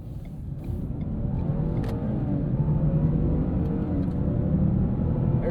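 A 2017 Ford Fusion Sport with a twin-turbo 2.7-liter V6 accelerates hard, its engine building from a low rumble into a steady, strong drone heard from inside the cabin.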